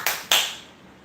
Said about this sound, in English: Oh, clap my hands.